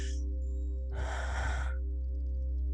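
A single slow, deep breath, a broad breathy rush lasting under a second, close and fairly soft over a steady low background hum, with no talking.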